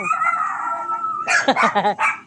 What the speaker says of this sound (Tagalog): Yung mga aso. Yung mga aso.